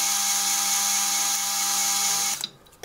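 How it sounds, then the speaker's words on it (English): Metal lathe parting off a metal workpiece under power cross feed, a sustained high whining ring with steady tones that cuts off abruptly near the end, followed by a brief clunk. "So using the power cross feed on the lathe makes parting off pieces like this really easy"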